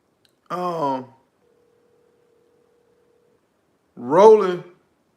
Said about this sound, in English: I'm trying to get my man Roland on the phone